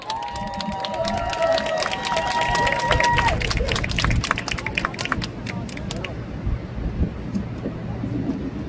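An outdoor political rally crowd at Cheonggye Plaza, Seoul, claps and cheers loudly with a sustained whistle early on, then the applause fades into a low murmur after several seconds.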